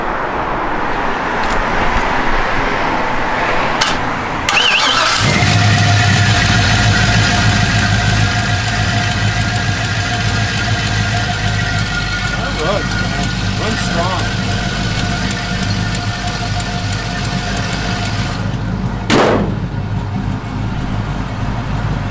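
A 1956 Chevrolet Bel Air engine idles steadily close by with a small exhaust tick, a continuous low rumble that stays even throughout, with a couple of brief sharp knocks.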